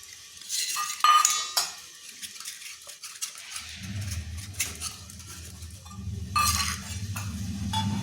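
Oil being spread into steel bowls for eggless sponge bowl cakes, with scattered metallic clinks and scrapes of utensil against steel, then a low steady rumble underneath with more clinking bursts toward the end.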